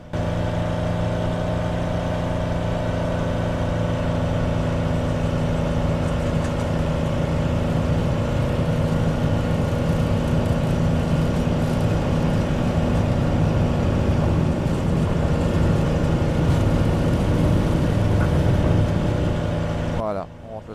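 A Piaggio P149D light aircraft engine in Microsoft Flight Simulator roars at full throttle, a loud steady droning hum that holds for about twenty seconds before cutting off abruptly.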